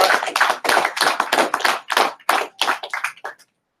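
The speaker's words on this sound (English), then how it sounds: "Clap it up now." A handful of people clap in quick bursts, the applause rising and dipping before trailing off into silence.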